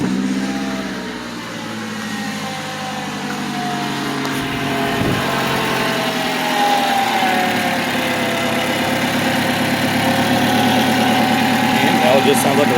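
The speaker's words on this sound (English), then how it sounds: "It just sounds like a regular 4-cylinder." A Toyota RAV4 with the 2.5L four-cylinder engine, drive belts removed, idles with a steady, even hum and a faint mechanical ticking, close and continuous throughout with no extra whine.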